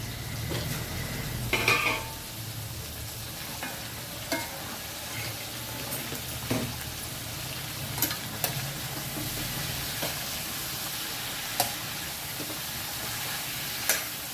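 A spoon stirs bitter gourd tamarind curry in a pan over a medium flame, with soft scraping, a gentle simmering sizzle and occasional sharp clinks against the metal.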